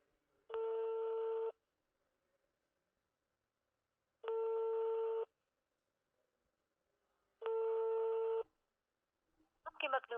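A phone rings out on a call. Three steady, buzzing ringback tones last about a second each and are separated by roughly three-second silences, with a brief burst of sound at the very end.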